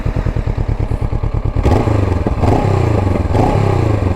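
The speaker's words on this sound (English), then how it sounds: "let's hear the exhaust sound." Honda NX 500 motorcycle exhaust: a few seconds of even idle pulses, then sharp revs that rise and fall repeatedly, loud and close.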